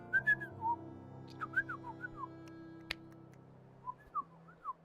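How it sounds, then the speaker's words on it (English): A person whistles to call a dog named Ellie: short, bright rising and falling notes in several small bursts, close and clear over a quiet, steady background hum. "Look, I'm gonna whistle her."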